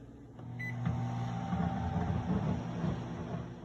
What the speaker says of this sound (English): stick your melts in a microwave safe bowl and place that in your microwave